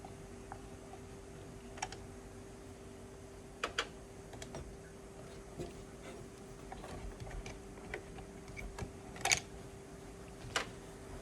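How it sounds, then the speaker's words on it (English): Someone removes four thumb screws from a PC's AIO CPU cooler, with faint scattered clicks and small metallic ticks at irregular intervals over a quiet background hum. "We'll take off the 4 thumb screws."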